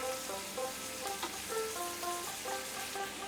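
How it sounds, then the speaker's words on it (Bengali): Prawns frying in a pan with salt and turmeric over a medium-high flame, giving a steady, fairly quiet sizzle with faint stirring clinks and no voices. "মিডিয়াম টু হাই ফ্লেমে আমি 2 মিনিট একটু হালকা করে ভেজে নেব"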